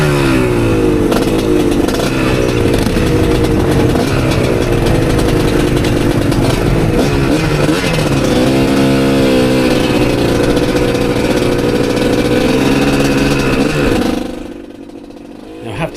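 A two-stroke off-road motorcycle engine drones loudly and continuously on a trail ride, its pitch rising and falling as the rider works the throttle, before it suddenly drops away near the end.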